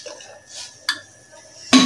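Metal ladle and dishes clinking while kadhi is served into a bowl in a home kitchen, a few sharp isolated clinks with a louder final clatter, close by and without speech.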